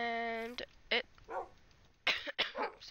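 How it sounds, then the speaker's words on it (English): Puppies indoors give a high whimpering whine followed by short yips and sharp barks, close and scattered among brief pauses. "Oh, these puppies."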